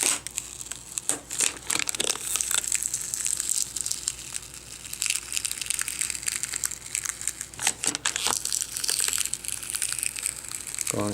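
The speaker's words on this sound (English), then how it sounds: "So gently remove the metal foil." Thin metal foil crinkles and crackles as it is peeled off the back of an Asus X551 laptop screen, a steady close-up rustle with a few sharper tearing bursts.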